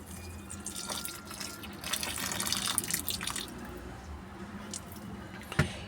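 Water poured by hand onto a potted garden plant after a wood-ash fertiliser treatment, a steady close splashing and trickling wash with faint drips, ending in one sharper splash.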